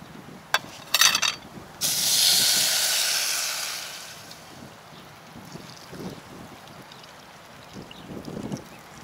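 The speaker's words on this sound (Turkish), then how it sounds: "Şimdi sıcak su ekleyip pişirme işlemine geçeceğim." Hot water from a thermos pours onto toasted pasta in a camping pot outdoors, making a brief clatter and then a loud hissing rush for about two seconds, which fades into soft wind and faint handling noises.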